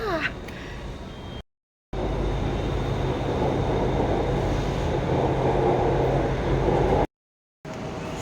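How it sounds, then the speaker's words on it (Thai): Bangkok MRT electric train on the move, a steady broadband rumble and rolling hum inside the car, fairly loud and continuous, with brief breaks in the sound. "เริ่มต้นที่รถไฟฟ้า MRT สะดวกสบายมากค่ะ"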